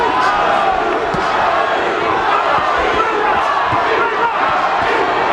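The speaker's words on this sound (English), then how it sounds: "The crowd trying to urge Tapia on with chants of Johnny" Boxing arena crowd at the Johnny Tapia vs Paulie Ayala fight, a loud continuous roar of voices with rhythmic chanting for Tapia.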